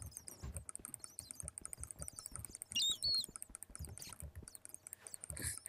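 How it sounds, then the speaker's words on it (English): Rapid mouse or keyboard clicking during Minecraft play, quick faint clicks in irregular bursts with a brief chirping game sound in the middle. "You hear my constant clicking of,"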